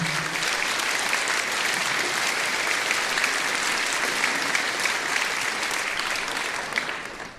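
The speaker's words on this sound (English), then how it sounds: "let's give all those guys a nice round of applause for donating to the AVB" Audience at an AVB Community Band concert giving donors a round of applause, a broad, sustained crowd clapping that holds steady and then tapers off near the end.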